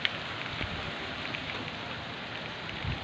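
Soft, steady rainfall patters on a surface, with a few slightly louder drops standing out against the continuous hiss.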